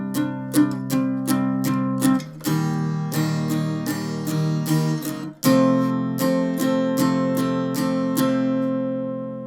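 Guitar strums the chords of a song in a down-up pattern, bright repeated strokes with a couple of chord changes and a sharp accent midway, played alone without voices.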